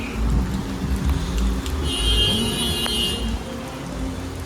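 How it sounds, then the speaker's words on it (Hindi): Heavy rain pours down steadily around an XUV500, a loud, continuous hiss with a deep low rumble and no pauses across the whole stretch. "पूरी खतरनाक बारिश हो रखी है।"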